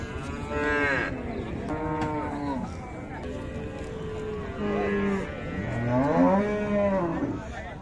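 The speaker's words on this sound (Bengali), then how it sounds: "এই যে বাচ্চা গাভী এক জায়গায় হলো" Cattle at a Raniganj livestock market in Dinajpur, a Friesian cow with her calf, moo repeatedly in long, drawn-out, fairly loud calls across the whole stretch, with low market hubbub beneath.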